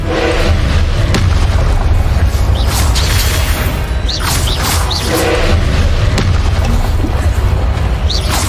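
Repeated booming fire spell blasts in a Hogwarts video game, loud and dense, with several detonations and crackling bursts overlapping across the whole stretch amid busy combat clatter.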